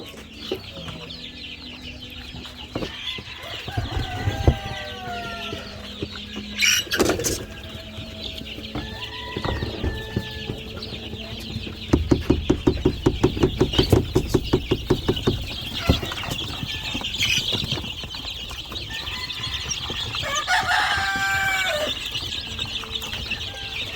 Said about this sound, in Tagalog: So mostly dito ay yung puti natin na crosses ng White Leghorn nakakross sa Barred Rock.